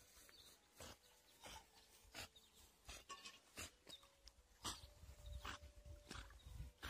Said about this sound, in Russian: Господи, запыхалась собачка.